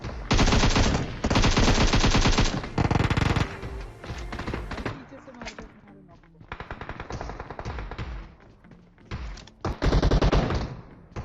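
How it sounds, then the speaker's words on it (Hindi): PUBG Mobile gunfire, loud bursts of rapid automatic weapon shots in repeated volleys with brief pauses between them, filling the mix with chaotic battle noise. "अब चारों तरफ आप गोलियों की आवाज़ सुन सकते हो"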